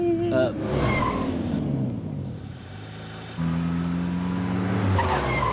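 A car in a Hindi dubbed movie scene pulls away quickly, its engine revving up with brief tire noise and rising engine tones. People talk over it.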